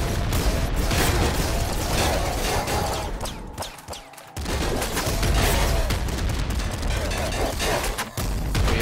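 Dense gunfire and explosions sound in the video game Nuclear Throne, with loud continuous bursts, a brief drop-out in the middle, and chaotic shots and blasts resuming.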